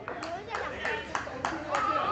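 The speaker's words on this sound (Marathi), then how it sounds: "सगळ्यांनी टाळ्या वाजवायचा आहे." Spectators at a local cricket match clap in a steady rhythmic series of sharp claps, moderately close, with a voice talking underneath.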